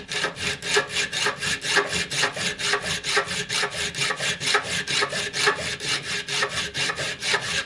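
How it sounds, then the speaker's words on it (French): A hand file works a metal running-gear part for a Citroën Traction 11, in a steady rhythm of about three rasping strokes per second, each push a bright scraping swell, repeated evenly and close up without speech. "il va falloir que je le fignole à la lime"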